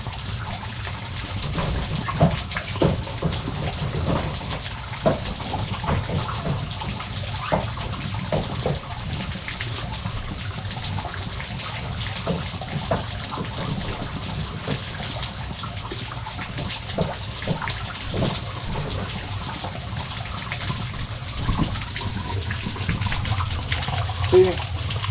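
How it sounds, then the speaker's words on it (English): Water drains steadily from an unclogged laundry sink, a continuous close rushing gurgle with small splashes that runs unbroken throughout, with no talk over it. "See, the water's draining."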